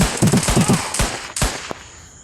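Gunfire rings out in a multiplayer video game: a quick run of rapid automatic shots, followed by several single louder cracks, all close and sharp. No voices are heard.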